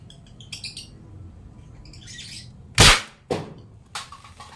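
A butane gas-powered PVC toy gun fires two sharp, loud pops close by, with faint chirping and a later click in a quiet room.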